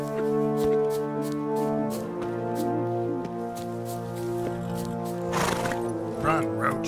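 In The Witcher 3: Wild Hunt, Geralt's horse Roach gallops with a rhythmic clatter of hooves under a droning musical score, and a voice speaks over it.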